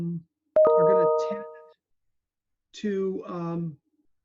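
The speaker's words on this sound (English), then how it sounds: "The chiming got me." A bright doorbell-like chime rings once with a sustained tone during a recruiting and retention workshop session, and a person talks before and after it.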